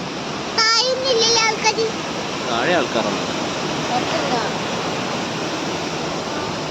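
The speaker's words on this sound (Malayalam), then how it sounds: "കടലിൻ്റെ നല്ല സൗണ്ട് ഉണ്ട്" Sea waves near a lighthouse make a broad, steady wash of surf at moderate distance, with people talking and a voice heard briefly over it near the start.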